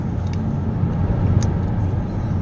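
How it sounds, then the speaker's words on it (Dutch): A car rolls past nearby with a steady, broadband road rumble and tire noise that holds for a couple of seconds, with no talking. "Even voorbij mijn auto rijden."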